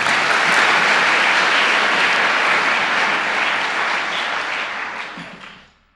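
Church congregation applauding during a French-language sermon, a dense, steady wash of clapping that holds strong for about five seconds and then fades away near the end.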